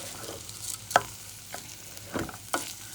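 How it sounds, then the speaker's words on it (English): Chorizo and rice sizzle softly in a pan while a utensil stirs and scrapes, giving a few sharp clacks against the pan. "I'm going to let it sizzle for a tiny weeny bit"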